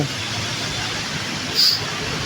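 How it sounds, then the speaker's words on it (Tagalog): Steady broadband hiss of heavy rain pouring down outdoors while walking, loud and continuous, with a brief brighter splash of noise near the end. "sa sobrang lakas ng ulan"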